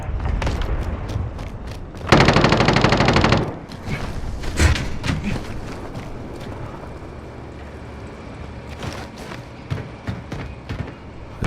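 Gunfire from Call of Duty Warzone played on PS4: scattered single shots are followed by a dense burst of rapid fire lasting about a second, then more sporadic cracks and thuds through the rest of the stretch.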